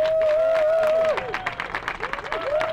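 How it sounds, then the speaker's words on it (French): Audience applause for a performer at a memorial gathering, a broad crowd clapping that rises and then thins slightly, with a strong sustained tone and some voices mixed in. "je voudrais qu'on lui donne les applaudissements qu'elle mérite"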